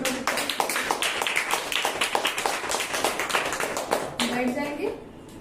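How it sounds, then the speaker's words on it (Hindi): A congregation at a Hindi evangelical church service claps loudly in a quick, regular rhythm while voices carry on over the clapping, and the beat fades near the end. "हम जोर से ताली देंगे प्रभु को।"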